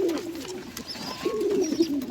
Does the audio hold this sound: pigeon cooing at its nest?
yes